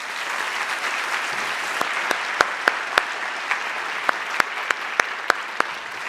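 Audience at a short film competition award ceremony applauds steadily throughout, a dense even clapping with a few sharp nearby claps standing out, no talk over it.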